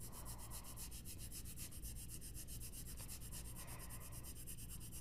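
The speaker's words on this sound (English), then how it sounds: "Now I'm taking this pencil, it's called dark green, and I'm going to go in about 1/3 of the way, and I'm going to lay some of that color down" Dark green colored pencil being shaded onto paper, a steady close scratchy rubbing that continues for the whole stretch with rhythmic strokes, with no voices.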